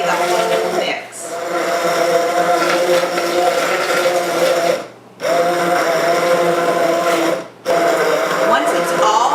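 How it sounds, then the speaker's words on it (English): An immersion blender purees butternut squash soup in a pot, a loud, steady whirring drone that cuts out briefly twice before starting again. "So put it in the pot and just let it run. And you can puree the whole mix."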